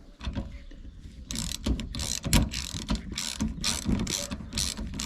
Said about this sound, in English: the first thing we need to do is just remove these 4 bolts. So we're using the M10 or 10mm socket